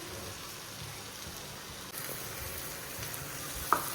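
Masala frying in hot oil for a Punjabi home dish, a steady close sizzle that grows a little louder partway through, with one small clink near the end and no talking.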